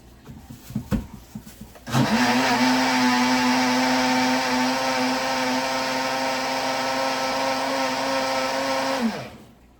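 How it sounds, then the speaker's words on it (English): A mini blender whirs steadily at close range for about seven seconds while mixing cornmeal, after a few clatters, then spins down and stops. "My mini blender."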